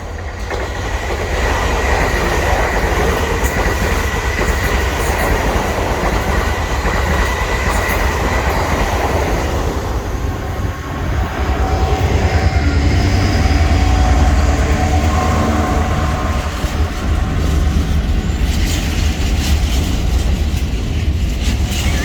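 A train passes through Eastleigh station, loud and close, with a steady rumble of rolling wagons, clattering wheels and some squealing that carries on for about twenty seconds.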